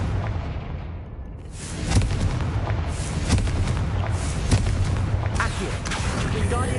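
The Confringo blasting spell explodes in the video game Hogwarts Legacy, producing a heavy boom followed by a rumbling, crackling barrage that holds loud for several seconds.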